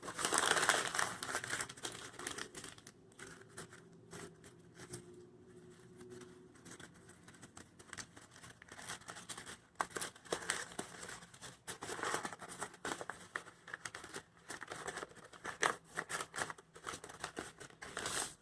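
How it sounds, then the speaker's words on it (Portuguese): A white A4 sheet of paper is crumpled by hand in an art workshop, giving a long run of soft, irregular crinkling and crackling bursts with brief pauses, fairly faint throughout. "eles vão precisar de uma folha tamanho A4 branca, e eles vão amassar ela."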